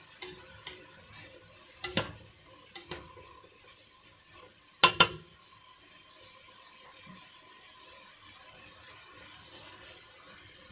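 A spoon stirs chicken minestrone soup in a pot, with scattered close clinks and scrapes against the pot, including a quick double knock midway, over a low steady simmering hiss.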